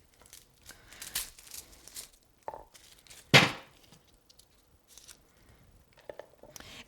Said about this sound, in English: You can take it with the back of your knife and just press on it gently to crush the